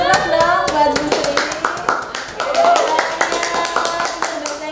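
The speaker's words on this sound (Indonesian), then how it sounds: "Tepuk dong buat Bu Sri." A classroom group of teachers or students clapping for Bu Sri, bursts of hand claps in rhythmic patterns mixed with brief voices and musical tones in the background.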